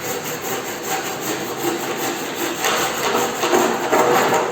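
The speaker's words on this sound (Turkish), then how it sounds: "bunu şöyle tutuşunuz testereyle çapraz kesim yapmanız lazım" A hand saw cuts a cornice molding at a 45-degree miter, giving a steady, close, continuous rasping scrape that grows slightly louder toward the end, with no talking.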